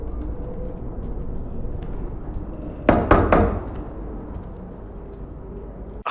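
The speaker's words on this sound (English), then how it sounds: "there's a knock at the door." A few sharp knocks on a door in a film scene, a quick cluster of raps standing out over a low, quiet background hum.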